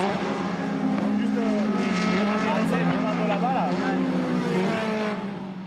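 A race car engine drones loud and sustained on a drying circuit during a practice session, with a steady pitch as the driver opens the throttle, and someone speaks over it throughout.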